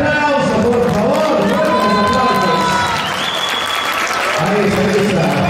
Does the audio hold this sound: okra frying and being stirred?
no